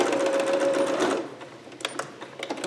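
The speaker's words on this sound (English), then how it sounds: "Now I'm going to back stitch there." Sewing machine back stitching a seam on a Vogue 8280 garment, a fast close whirring run that stops abruptly, followed by scattered small clicks and handling noises.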